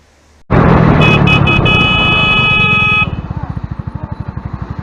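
Horn honked in traffic after a near collision with a motorcycle, a single sustained loud blast after brief quiet, followed by a rapidly pulsing engine or brake rattle.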